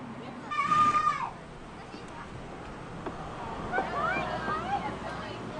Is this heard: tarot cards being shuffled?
no